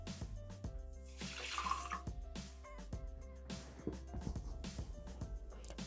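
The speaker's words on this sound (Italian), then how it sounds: "Iniziamo la ricetta mettendo all'interno del boccale l'acqua." Water is poured into a Thermomix (Bimby) mixing bowl for a bay leaf and lemon syrup, with a splashing pour near the start, then scattered drips and small clatters around the kitchen.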